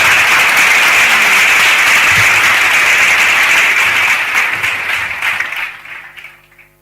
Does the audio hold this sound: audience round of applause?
yes